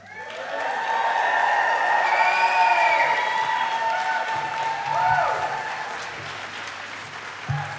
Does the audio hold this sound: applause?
yes